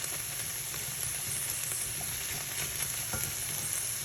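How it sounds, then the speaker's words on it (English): Pancetta frying slowly over low heat in a pan for guanciale spaghetti, giving a steady, quiet sizzle with faint crackles throughout and no voices. "Adding the pancetta. I'm going to let it cook in slow"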